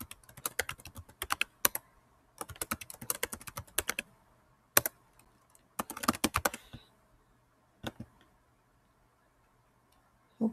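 A password being typed on a computer keyboard: clusters of quick, crisp key clicks in short bursts separated by pauses, close and fairly quiet, with a few isolated single taps.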